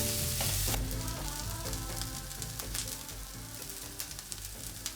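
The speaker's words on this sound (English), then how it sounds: "I will add my tomato paste. Mix it in." Tomato paste is stirred into sweated garlic in a pot of chicken, sausage and butternut squash stew, giving a close, steady sizzle with scraping stirs and no talking.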